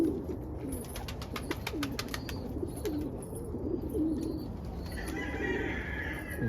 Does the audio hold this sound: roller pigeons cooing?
yes